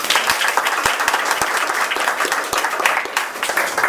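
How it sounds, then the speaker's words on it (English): Applause from a meeting audience welcoming a speaker, a dense, steady wash of many hands clapping close by for about four seconds. "Please help me welcome TM Takahashi with big applause."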